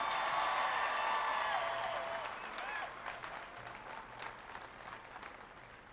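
A large crowd at a 1996 President Clinton rally in Wyandotte, Michigan, breaks into dense, sustained applause with scattered cheers, loud at first and gradually thinning out.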